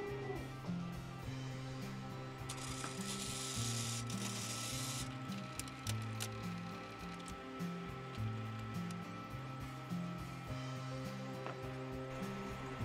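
An Epson F2000 DTG printer head travels back into its position, producing a soft mechanical whir with shifting motor tones and occasional clicks, fairly quiet and without talking.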